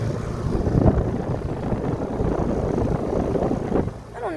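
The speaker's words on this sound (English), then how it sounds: "here's this bigger one running" A 4-ton Trane XR14 central air conditioner from 2022 runs in cool mode outdoors, giving a steady broadband whoosh of fan airflow with a low hum underneath, continuous and close.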